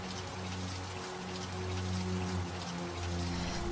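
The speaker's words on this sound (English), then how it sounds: "What are you doing out here in the rain" Steady rain patters down in a horror-film night scene, a dense even hiss of drops on surfaces with a low rumbling undertone throughout.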